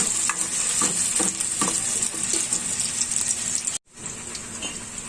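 Onion sizzling and frying in a hot pan while being stirred, a loud close crackle with scraping stir strokes, broken by a brief silence before the sizzle resumes.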